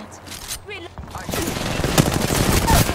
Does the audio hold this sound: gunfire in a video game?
yes